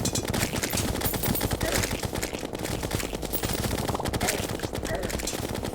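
Rapid, continuous bullet fire from a Terraria boss fight against Queen Slime during a solar eclipse, dense, loud and unbroken over a busy game soundtrack.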